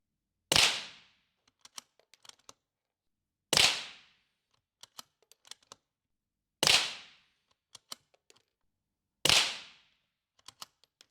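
Four sharp .22 rimfire rifle shots fired at even intervals of about three seconds, each a loud crack with a short ringing decay, followed by small clicks and clatters of the action between rounds.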